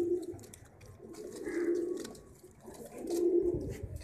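A breeder pair of pigeons coos in low, rolling phrases, two swelling bouts close by in a quiet setting.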